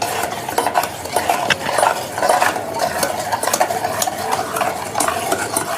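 Honey cake batter mixed with oil, a steady run of wet, rhythmic stirring strokes and light scraping against the bowl, loud and close without speech.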